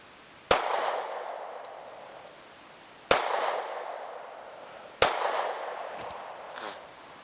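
Three sharp, loud Sig Sauer M18 pistol shots at an outdoor range, spaced a few seconds apart, each followed by a long echoing decay.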